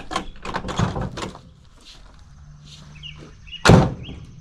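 Door of a 1965 Chevy Corvair with a chopped-off top closing, a single sharp thunk near the end after a stretch of quieter shuffling and clatter.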